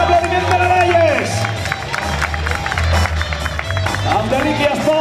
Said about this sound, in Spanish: fort aplaudiment per a elles